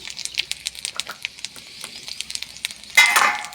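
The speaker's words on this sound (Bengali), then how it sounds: "ফোড়ন দিয়ে নেব। লঙ্কা, একটা এলাচ, আদা কুচি," Whole spices, chillies, a cardamom pod, chopped ginger and cumin crackle in hot oil to temper vegetarian dal, with light popping sizzle throughout and a sudden louder hiss near the end.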